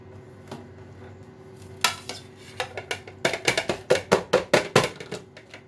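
A knife cuts set kalakand, a milk sweet, and the pieces go onto a plate: a run of sharp metallic taps and clinks, quickening into a steady rhythmic series near the end, close and clear with no talk.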